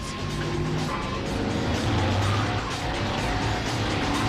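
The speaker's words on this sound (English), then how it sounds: "there's a classic case of way too much power and that supercharger kicking the car sideways" A supercharged car with far too much power kicks sideways on a race track. A loud engine roar carries the squeal of the tyres as it slides, with the pitch shifting through several sustained screeching bursts over about four seconds.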